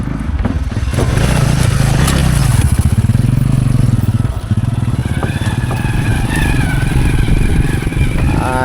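A boat's motor drones loudly and steadily close by on a river in rural Laos, a rough rattling engine hum with water noise, running without pause throughout.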